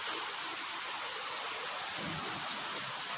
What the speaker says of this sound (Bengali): দেখো কি বৃষ্টি হচ্ছে মুষলধারে